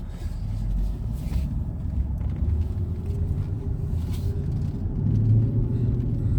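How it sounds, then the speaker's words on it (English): A supercharged Jaguar X350 Super V8 Vanden Plas runs after starting, a continuous low, rumbling engine idle that stays close and fairly loud, swelling slightly near the end. "So I started up the car."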